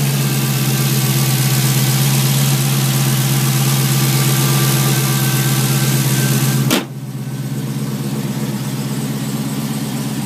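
2016 Dodge Challenger Hellcat in Jasmine blue idling at a dealer, a steady, close, deep engine burble with strong low hum that abruptly drops quieter near the end, no talk over it.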